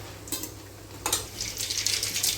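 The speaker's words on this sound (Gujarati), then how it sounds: "સાવ ધીમા તાપે આને તો તળવી પડે" Undhiyu chapdi frying slowly in oil over low heat, a soft bubbling sizzle that grows busier toward the end, with a few metal utensil clinks.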